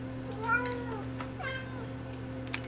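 A house cat meows a couple of times nearby, its short calls rising and falling over a steady electrical hum in an indoor room, with no talking.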